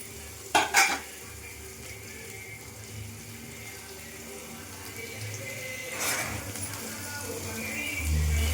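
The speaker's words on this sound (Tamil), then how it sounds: "வெங்காயம் நல்லா ஃப்ரை ஆகட்டும் ரெட் கலரில் வருத்துங்க வெங்காயம்" Onions fry in a pan over a steady low sizzle, with a couple of sharp utensil clacks near the start and another scrape around the middle, close and fairly quiet, with no speech.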